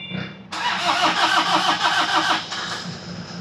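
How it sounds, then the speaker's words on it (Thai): A Toyota diesel pickup engine cranks briefly, catches and starts, then settles into a loud, steady idle with a clattering rhythm, close up with no one talking. "ก็ต้องสตาร์ทยาวนิดนึงนะครับ เพราะว่ากว่าน้ำมันจะเดินทางมาถึงนะครับ"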